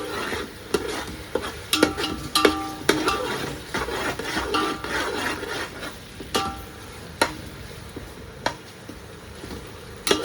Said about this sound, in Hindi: अब इसको भी अच्छे से कर लेते हैं भुनाई।